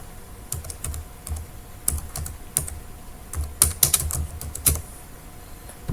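Someone types on a computer keyboard, close and fairly loud, in bursts of rapid clicks with short pauses and a few heavier key strikes, no voices.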